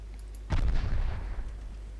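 Main-gun salvo from a warship in a naval battle in Ultimate Admiral Dreadnoughts, a single heavy boom that sets off a rolling rumble and fades over about a second and a half.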